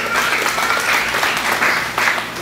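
A church congregation claps in praise, producing a loud, thick wash of applause throughout with a faint low hum underneath.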